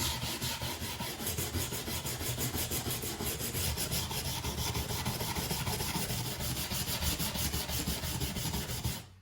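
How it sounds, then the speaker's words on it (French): A bronze wire brush scrubs and dewaxes old wood furniture, working product into the grain. The scratchy scrubbing is close and loud, with rapid back-and-forth strokes running continuously and no talking. "Et vous avez vu l'action de ma brosse? Quand même génial, hein? Donc là, je décrasse, je dessire."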